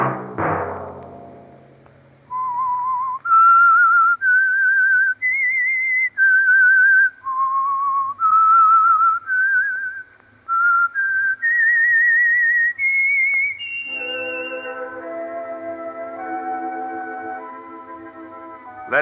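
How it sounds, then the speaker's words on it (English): A whistled theme for The Whistler radio mystery show, a lone clear melodic whistle of rising and falling sustained notes, followed by a brief orchestral chord at the end. "Let that whistle be your signal for the Signal Oil program, The Whistler, each Sunday night at this same time."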